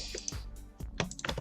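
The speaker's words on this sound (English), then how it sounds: "The keyboard's probably also really loud since it's right next to it." Close-up clacking of computer keyboard keys, several quick irregular keystrokes tapped in a short burst, fairly loud and with no voices.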